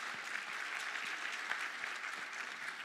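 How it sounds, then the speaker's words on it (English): Audience applause at the 2022 Gauteng Women in Sport Dialogue, a steady wash of many hands clapping, fairly distant and even in level throughout. "So can you please give us a round of applause"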